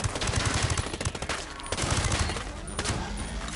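Automatic gunfire with heavy recoil in Ghost Recon, a dense rapid burst of loud cracking shots running the whole moment with hardly a break.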